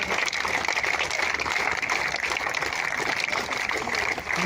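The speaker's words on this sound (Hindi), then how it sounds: "सभी लोग या तालियां जोरदार करते रहना चाहिए" A crowd claps at the foundation stone ceremony for the Samrat Ashok Convention Centre in Greater Noida, producing a continuous, dense patter of applause at a steady, fairly loud level.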